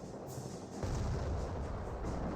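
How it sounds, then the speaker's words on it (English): Artillery barrage in Company of Heroes 1 rumbles at a distance: a low, muffled field of thuds and booms that swells after a brief quieter opening and keeps rolling under faint battlefield noise. "That seemed like it was a barrage being targeted right there."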